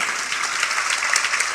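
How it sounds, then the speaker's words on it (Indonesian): A church congregation applauding during a sermon, a short burst of steady, close, fairly loud clapping with no voices. "Beri tepuk tangan."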